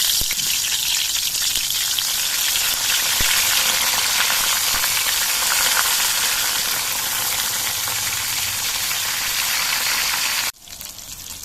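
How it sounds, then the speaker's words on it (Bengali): Long eggplant slices fry in a wok of hot oil for a Saraswati Puja khichuri and labra meal, giving a loud, steady, close sizzle that runs unbroken for about ten seconds before a short cut. "তেলটা গরম হয়ে যাওয়ার পর এবার এর মধ্যে আমি প্রথমেই বেগুনের পিসগুলো ভেজে নিচ্ছি"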